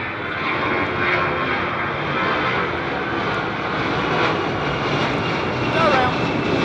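Aircraft engine roar during a go-around at Heathrow Airport on a stormy day, a loud, steady broadband rumble that holds throughout with a slight swell near the end.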